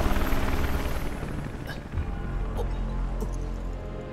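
A small helicopter arrives in the game Final Fantasy VII Remake, its low rotor thrum rumbling steadily and loudly, with a few faint drips and clicks scattered over it.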